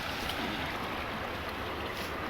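Water from a natural spring gushing strongly, a steady, close rushing wash that continues without any break.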